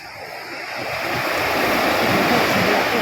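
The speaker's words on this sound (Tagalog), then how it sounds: "malalaki ang alon. Malaki ang gulong." Large ocean waves roll onto a fishing beach as a fishing boat comes in to unload its catch, a loud, swelling roar of surf building over a few seconds, heard alone.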